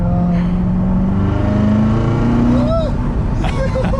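A manual Corvette C7 Z06 driven at night accelerates with a loud, steady engine drone and rising pitch through a gear, heard from inside the cabin with occupants' voices mixed in.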